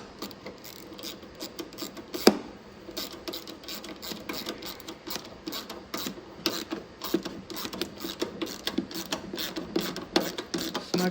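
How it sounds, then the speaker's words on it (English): A cordless ratchet snugs down a heater housing in a Studebaker's chopped firewall, giving rapid clicking bursts and whirring motor runs close by, with one sharp clank early on and no talk. "grab my cordless ratchet"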